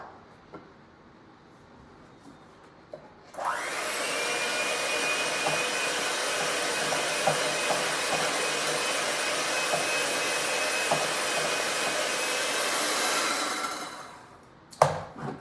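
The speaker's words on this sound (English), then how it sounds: "I'm gonna go with the mixer a little bit more" An electric hand mixer beats cream cheese frosting in a bowl, starting abruptly and running as a steady loud whine for about ten seconds before cutting off, with faint clatter of the beaters against the bowl.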